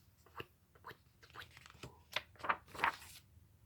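A voice imitates a rotating lawn sprinkler with a series of short, breathy hissing bursts that grow sharper toward the end, delivered close and fairly quietly.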